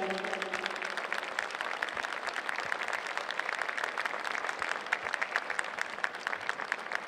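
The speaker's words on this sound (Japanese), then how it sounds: "大きな拍手をお送りください。" Sustained applause from a large crowd at the opening ceremony of the Tokyo 2020 Olympic torch relay grand start, dense and steady clapping filling the whole stretch, with no talking over it.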